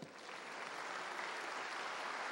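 A church congregation applauds in a brief, steady burst of many hands clapping together, faint and somewhat distant.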